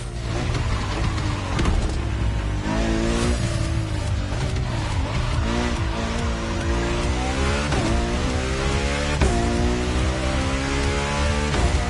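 A sports car in the racing game The Crew Motorfest revs and accelerates hard, its engine climbing through repeated rising gear pulls, loud and continuous with tire noise, and no talk.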